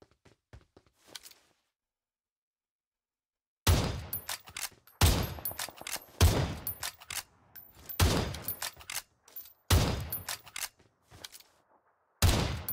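Gunfire in the Mirror Murder video game, a few faint shots, then silence, then loud bursts of rapid shots in repeated clusters separated by short pauses.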